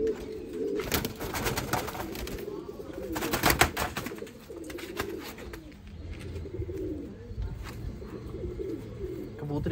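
Pet pigeons coo in soft, repeated low rolls close by, with bursts of wing and cage clatter and someone talking over them.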